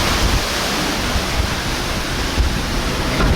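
Rough open ocean on a ship voyage toward the Falklands, a loud steady wash of surging waves and spray, dense and continuous with no voices.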